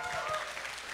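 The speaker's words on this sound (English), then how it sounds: "Huge round of applause for Andrew." Audience at a TouchDesigner meetup clapping in a dense, steady round of applause, with talk mixed in.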